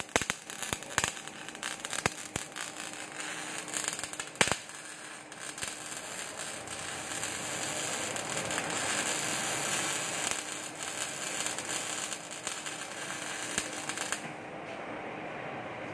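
Continuous crackling and sputtering hiss of MIG welding with sharp irregular spatter pops throughout, caused by holding the nozzle too far from the work, steady and fairly close, then cutting off abruptly near the end.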